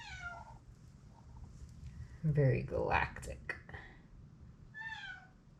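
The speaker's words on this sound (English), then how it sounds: "I hear you, cat." A pet cat meows near an indoor acrylic paint pour, several drawn-out cries at the start, middle and end, mixed with a person speaking briefly between them.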